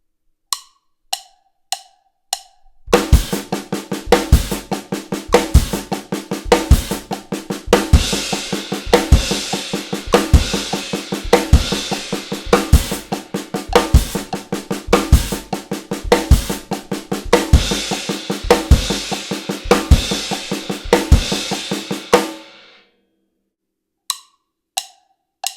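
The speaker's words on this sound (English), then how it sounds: "So we'll start with a Paradiddle Diddle." A drum kit plays a six-stroke paradiddle-diddle pattern as triplets, a dense, steady run of sharp hits with regular accented kick thumps. A few isolated clicks come before and after it.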